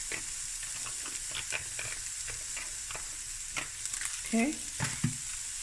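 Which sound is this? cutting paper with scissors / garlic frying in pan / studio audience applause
garlic frying in pan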